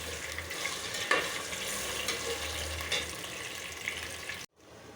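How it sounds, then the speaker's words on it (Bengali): Potatoes fry in oil for biryani, giving a soft, steady sizzling hiss with a few faint knocks, fairly quiet and close, with no talking, before cutting off near the end. "লাল লাল করে আলুগুলি ভেজে নিলাম মাংসের পরে"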